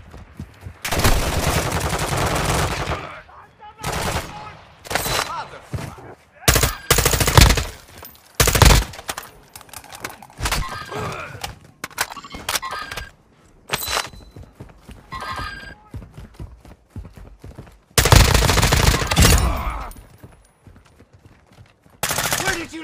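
Repeated bursts of automatic gunfire and single shots in the Call of Duty Modern Warfare 2 video game, loud and close, with radio chatter and shouted voices between volleys.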